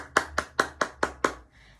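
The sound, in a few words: applause, clapping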